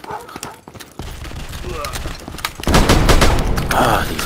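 Gunfire crackles and a grenade blast erupts during an online shootout in a PSVR shooter set in a monastery, loud bursts building toward the end with players talking over it.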